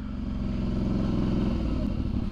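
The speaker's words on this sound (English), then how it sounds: "Let's see how the bike handles a full steering lock turn." Suzuki V-Strom 650 motorcycle engine idling and pulling low through a slow full steering lock turn, a steady nearby mid-pitched rumble with slight throttle variation.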